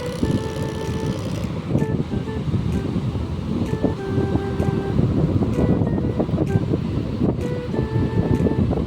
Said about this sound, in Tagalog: Wow, lakas ng alon.